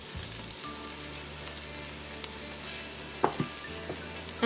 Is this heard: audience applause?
no